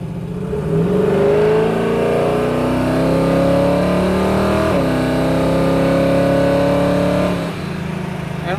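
A 1969 Chevrolet Camaro SS-style V8 roars close by, revving up steadily through the gears with rising pitch, a brief shift midway, then easing off at the end.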